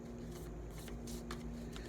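Tarot cards, a deck holding the major arcana, shuffled by hand in a series of soft papery riffles and slides over a steady low hum, with no talk.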